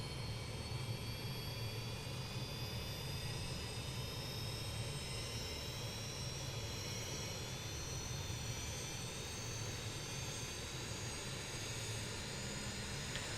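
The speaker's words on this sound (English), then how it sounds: "let's just listen to these startups. APU spool up." An airliner's APU and engines spool up in the X-Plane flight simulator, a continuous loud jet roar with rising whines layered over a broad rumble, steady throughout with no voices.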